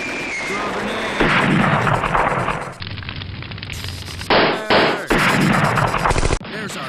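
Video game firefight with rapid automatic gunfire bursts and heavy blasts cutting in and out, a grenade explosion among them, loud and close with brief gaps between volleys.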